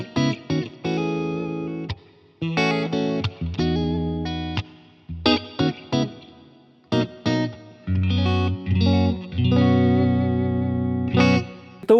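An electric guitar played through a Line 6 Helix Stadium multi-effects unit with a clean cab, mic and dynamic plate reverb rings out in phrases of picked notes and chords. Each phrase leaves a short reverb tail and a few short gaps between, with no talking.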